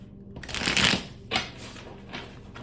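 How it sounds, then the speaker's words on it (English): Tarot cards are shuffled in a quick riffling burst followed by a couple of softer flutters, close by. "Feel the need to shuffle one more time here."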